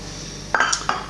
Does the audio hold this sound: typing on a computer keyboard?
no